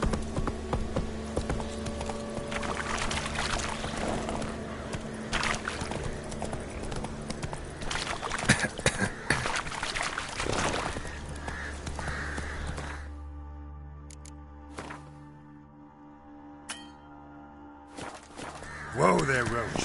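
Roach, a horse in The Witcher 3, trots with steady clip-clopping hooves through most of the stretch, then slows and quiets near the end. Someone speaks over the hoofbeats.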